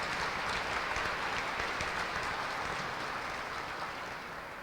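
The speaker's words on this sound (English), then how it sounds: "I want you to take note who got applause here today" Steady applause from a large crowd, dense and continuous, slowly fading a little toward the end.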